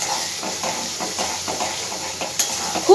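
A spice paste of poppy seed and peanut fries in a pan over a medium gas flame, giving a steady sizzle and hiss with soft stirring scrapes and a brief clink of utensils.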